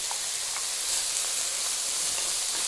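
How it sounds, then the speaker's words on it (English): Onions hit a hot pan for a chicken curry, giving a loud, steady sizzle with continuous hiss and faint crackles throughout. "What we want to do now is just pop the onions in."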